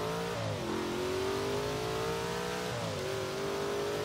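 A Lamborghini Jalpa in Forza Horizon 3 launches and accelerates, its engine note climbing smoothly in a loud continuous rev, dropping briefly at a gear shift before rising again, with no voices.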